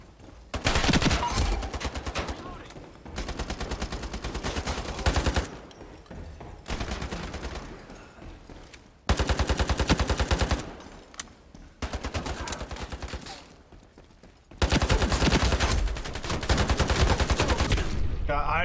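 Rapid automatic gunfire from the video game Ironsight, loud dense bursts of several seconds each broken by short pauses, continuing through most of the stretch with occasional speech beneath.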